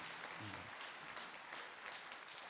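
Applause from an audience at a church service, faint and distant, a soft continuous patter of clapping spread evenly across the whole stretch.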